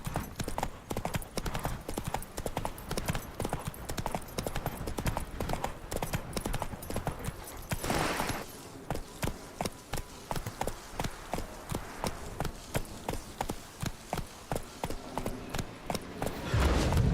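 Horse hooves gallop in steady, rapid clip-clop throughout in the video game Witcher 3, loud and continuous with faint game ambience and a brief whoosh midway.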